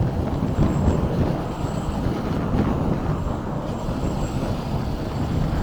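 Road traffic heard from a moving motorcycle on a busy road, a continuous low rumble of engines, tyres and wind with a faint high whine, steady and close throughout.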